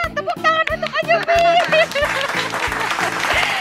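Applause for a child during a tongue-twister challenge, steady clapping that runs throughout while a voice speaks over it with bits of chuckling.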